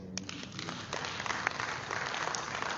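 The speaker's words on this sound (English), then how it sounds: "So can we clap ourselves as well?" Audience clapping at a government report launch on the COVID-19 response, with a broad, steady patter of many hands filling the room for a few seconds, no speech.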